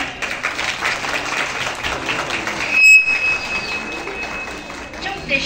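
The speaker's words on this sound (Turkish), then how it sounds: "Kuvvetli bir alkış istiyorum" Applause at a Turkish civil wedding ceremony, a dense sustained wash of clapping from the guests lasting throughout, with a brief pause near the middle and a high tone briefly audible.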